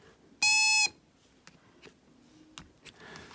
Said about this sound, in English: if they do, it makes that beeping noise